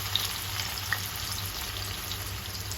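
Thinly sliced onions frying in oil in a pan, a steady close sizzle with faint crackles throughout, no talking.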